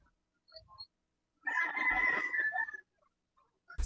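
A chicken sounds off close by with one drawn-out crowing call, preceded by a few soft clucks and followed by silence, with no talking during it.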